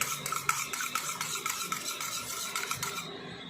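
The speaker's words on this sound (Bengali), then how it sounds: "ডিমটাকে একটু ফেটে নিচ্ছি" Two eggs being beaten briskly by hand for a vegetable batter flatbread, a rapid, steady run of close, light clicking strokes with no voices.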